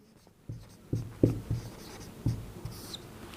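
Chalk or pen writing during a class 10 physics lesson on electrical resistance, a series of distinct tapping strokes at an uneven rhythm, close and fairly loud, with no talking.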